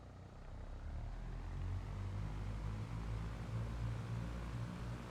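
A propeller aircraft's engine runs steadily at high power during a pre-takeoff run-up near runway 21, a loud continuous drone with a low throbbing hum that holds constant throughout.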